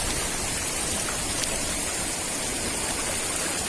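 A small waterfall on a stream rushes with a steady, loud wash of water that fills the whole scene without pause.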